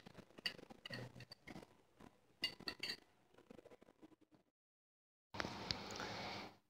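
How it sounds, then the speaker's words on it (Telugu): A spoon stirs curd into ragi porridge, giving a few close, faint clinks and scrapes against the container in short bursts, then a brief silence and a louder continuous rush at the end. "చూసారు కదా ఫ్రెండ్స్, ఇలా బాగా కలుపుకోవాలి."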